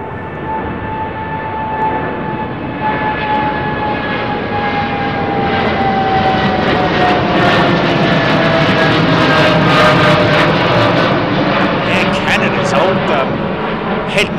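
A jet airliner departs runway 09R at London Heathrow, its roaring engine noise building steadily and staying loud and close throughout, with a descending whine running through the roar.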